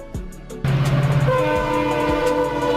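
A diesel train sounds a loud, sustained horn over its rumbling engine, entering with a sharp onset after a brief quieter stretch of rail noise and holding steady to the end.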